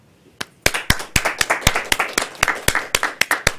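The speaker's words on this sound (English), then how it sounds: "And we always shake hands and clap a lot." Clapping at a Toastmasters club meeting: a loud, close run of distinct hand claps in a steady, slightly uneven rhythm, roughly a dozen and a half strikes after a brief quiet start.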